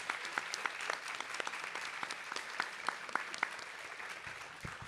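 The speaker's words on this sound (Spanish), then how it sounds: "eu gostaria de pedir uma salva de palmas aos nossos intérpretes de Libras" An audience at a book fair talk applauds the sign-language interpreters, steady clapping from a moderate crowd with distinct individual claps standing out, fairly quiet and continuous, no talking.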